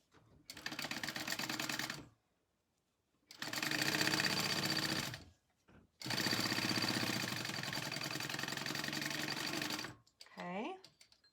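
A sewing machine stitches a quarter-inch seam on a handmade wallet, running in three loud, steady close bursts separated by short pauses, with a brief voice at the end.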